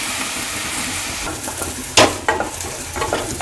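Turkey berries sautéing in a pan for chutney, a steady soft sizzle with a few sharper stirring scrapes and clacks near the end.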